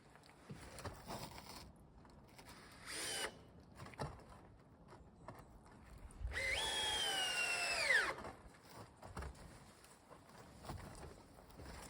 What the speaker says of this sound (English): snugging up the screws there to kind of clamp it in place